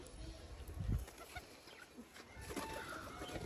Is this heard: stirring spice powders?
no